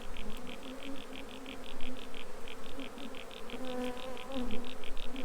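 Honey bees buzz steadily around an opened backyard hive during a spring inspection, a close, continuous drone with a rapid pulsing flutter layered over it.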